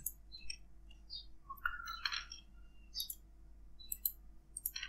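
Computer mouse clicks on the Windows start button, a few short sharp clicks spread unevenly across a quiet background with a faint steady hum and no talking.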